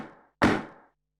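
A shaker run through a basic distortion effect in Logic: a fading gritty tail, a brief gap, then one loud, harsh, crunchy burst that decays over about half a second.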